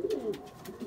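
Breeding racing pigeons coo in a loft, giving soft low throaty cooing close by with faint rustling behind it and no one speaking.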